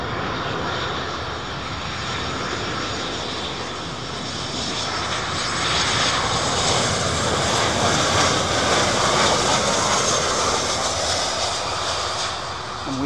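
A loud, sustained roar from aircraft engines at Miami's airport rolls past near the runway, where 747 freighters operate; the broadband rumble swells in the middle and holds steady, with no voices.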